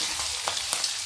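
Chickpeas frying in hot oil give a steady close sizzle with small crackling pops across the whole short stretch, with no voices.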